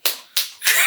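Three sharp hand claps, close and dry, evenly spaced with the last one slightly longer and brighter.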